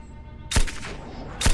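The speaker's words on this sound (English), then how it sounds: "the gunshots you hear are coming from the trader" Two sharp gunshots in the video game Surroundead ring out about a second apart, each with a brief echoing tail over a quiet background.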